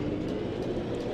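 Tram pulling away in the OMSI 2 bus and tram simulator, a steady low rumble and hum of motor and rolling wheels at moderate level with faint rail clatter, no talk.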